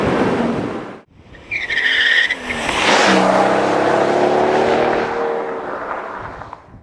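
Mercedes-Benz SL600 with a twin-turbo V12 pulls hard in first gear, its loud engine note rising steadily and close, with a sharp squeal and surge after a brief pause near the start.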